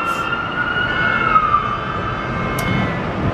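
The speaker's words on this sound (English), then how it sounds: "What is with all these sirens? That's an ambulance." A faint ambulance siren wails in the distance over steady background noise, its pitch sliding slowly downward.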